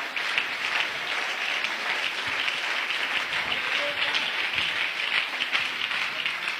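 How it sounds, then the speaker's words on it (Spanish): A church congregation applauds steadily, a dense wash of clapping from many hands that holds at an even level throughout, with a faint voice underneath. "Dale un aplauso al Señor en esta noche."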